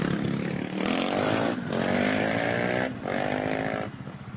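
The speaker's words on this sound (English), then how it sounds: "On that good-looking KTM number 452X out of Fruita, Colorado, Mike Reed." A KTM race motorcycle in the SCORE Baja 1000 off-road desert race roars past close by. Its engine revs high in rising bursts, with brief drops as it shifts gears, before fading slightly at the end.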